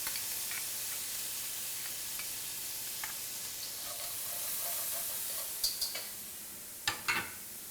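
Shallots and garlic sizzle in hot frying oil for pineapple fried rice, a steady broadband crackle near and moderately loud, with a few sharper clinks and stirring taps toward the end.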